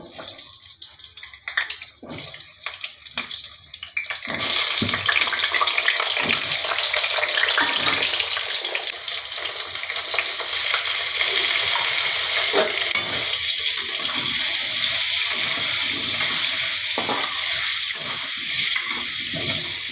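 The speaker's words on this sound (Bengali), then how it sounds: "এই যে বন্ধুরা আমি আলুগুলোকে একটু ভেজে নেব।" Potatoes frying in oil in a pan give a loud, continuous crackling sizzle that starts abruptly after a few seconds of quieter handling noises and holds steady nearby, with no talking.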